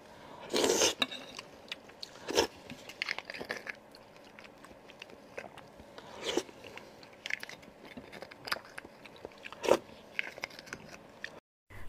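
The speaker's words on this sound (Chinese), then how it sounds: "今天咱们吃西溪骨髓。" Beef bone marrow being eaten in close-up, with a few loud crunchy bites and wet chewing spread through the clip, separated by quieter stretches of soft mouth sounds and no talking.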